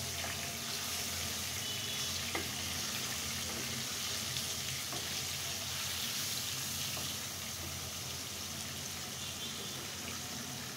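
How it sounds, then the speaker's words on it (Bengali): Fish frying in a pan of hot oil gives a continuous, fairly loud sizzle with faint spatters and a watery hiss, holding steady the whole time without speech. "এখন আমি খুব সুন্দর করে মাছটাকে ফ্রাই করে নেব।"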